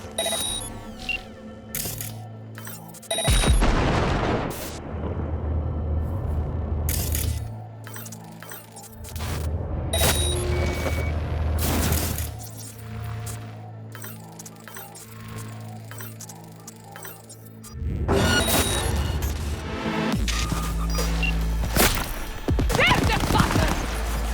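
Gunfire in the video game Cyberpunk 2077: sharp cracking shots in scattered bursts and single reports, loud and close, separated by quieter stretches of low rumbling background.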